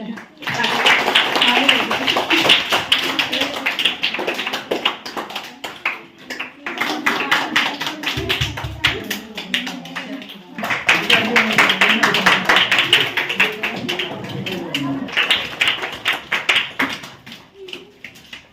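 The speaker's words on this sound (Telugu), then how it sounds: "క్లాప్స్" Children and adults at a village school Sankranti celebration clap in steady rapid bursts during a prize ceremony, with short pauses between rounds and voices heard over the applause.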